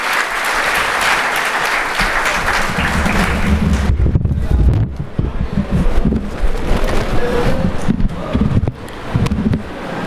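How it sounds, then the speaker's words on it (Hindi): Loud, dense applause welcomes a guest at a school event for teachers and students. The clapping rolls on for about four seconds, then cuts off, and a speaker's voice with some rustling background noise follows. "तालियों से"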